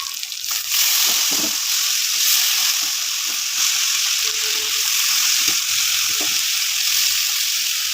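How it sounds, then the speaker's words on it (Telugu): Ginger and tomato fry in a pan for red dal, giving a loud, steady, close sizzle that holds throughout, with a few faint stirring knocks underneath. "మనకి ఇక్కడ అల్లం వేగుతుంది టమాటా కూడా ఉడుకుతుంది"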